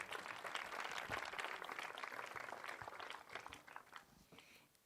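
Crowd at an outdoor concert at the Vecchie Carceri in Castiadas claps, a moderately close burst of applause that gradually thins and fades out.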